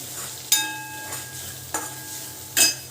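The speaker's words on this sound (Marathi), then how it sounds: "आता ही व्यवस्थित तेलामध्ये फ्राय करून घ्यायचे" Chilli chutney frying in oil in a pan for egg curry, a steady soft sizzle broken by three sharp stirring scrapes spaced about a second apart, close by with no talking.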